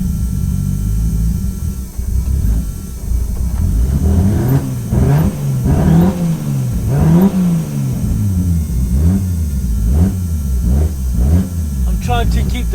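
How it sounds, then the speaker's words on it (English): A 700 bhp Nissan Skyline R33 engine revs up and drops repeatedly, surging and sagging as it cuts out and struggles to stay running, loud and close. "I'm trying to keep the gas up because the car wants to die down"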